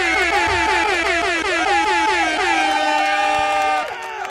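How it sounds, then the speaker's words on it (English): An air horn sound effect blares in a rapid series of loud, rhythmic tooting blasts that merge into a long sustained honk near the end. "An air horn."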